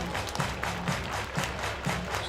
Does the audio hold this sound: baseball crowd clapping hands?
yes